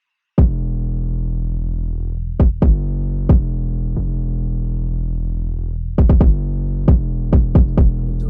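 Kick drum pattern layered with a sustained 808 bass in a hip-hop hook, heavy low booming tones that hold and slide between punchy hits, loud and continuous.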